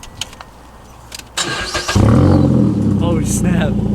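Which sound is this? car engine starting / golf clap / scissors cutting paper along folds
car engine starting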